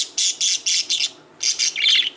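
Pet birds chirp nearby in quick, bright bursts of repeated high tweets, loud and close, with a short pause before another run of calls.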